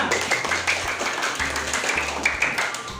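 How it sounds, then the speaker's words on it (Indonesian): A classroom of students gives a short burst of clapping during a lesson, a quick patter of claps lasting a few seconds with no talk. "Kasih tepuk tangan semuanya."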